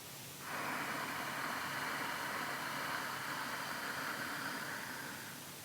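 A long, steady breathy hiss of a slow Ujjayi breath inhalation through a constricted throat, close and even, lasting several seconds with no talk.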